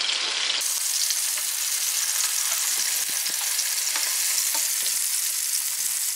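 Chapli kabob patties sizzle steadily in oil in a pan, a dense continuous frying hiss with faint scrapes and taps as a knife and spatula turn them over.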